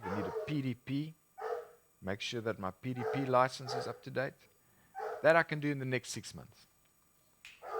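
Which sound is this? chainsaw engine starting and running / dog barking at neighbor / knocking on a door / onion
dog barking at neighbor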